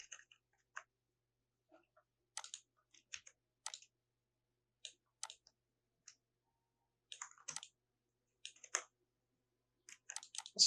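Quiet, sparse key clicks from a computer keyboard, typed in short irregular bursts with pauses between them, close and soft in an indoor room.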